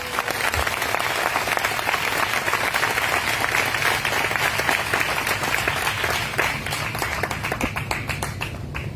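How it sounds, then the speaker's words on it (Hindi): Church congregation clapping for the Lord, a dense, continuous round of hand claps from many people that carries on steadily for several seconds. "आइए प्रभु के लिए अच्छी ताली बजाएंगे"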